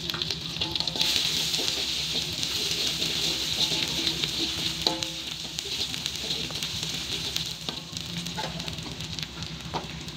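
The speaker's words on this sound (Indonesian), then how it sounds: "Panaskan minyak dan tumis bawang merah dan bawang putih yang sudah dihaluskan." Ground shallot and garlic paste sautés in hot oil, a soft, continuous sizzle with occasional stirring clatter, fairly quiet throughout.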